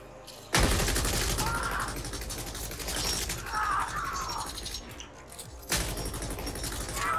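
Shotgun blasts in the sci-fi action game The Ascent, several loud sharp booms with mechanical clatter and shattering debris over a busy game soundtrack, with a voice speaking briefly.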